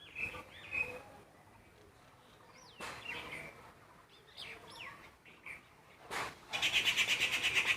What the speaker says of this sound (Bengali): প্রচুর নয়েজ রয়েছে, প্রচুর পশু পাখির ডাক রয়েছে।